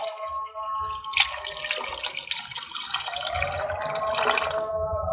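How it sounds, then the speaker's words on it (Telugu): Water poured into a pot of farm-chicken biryani makes a steady, close splashing rush that continues through the clip, with no talk. "నేను చెప్పిన క్వాంటిటీ ప్రకారం వాటర్ యాడ్ చేసుకోండి."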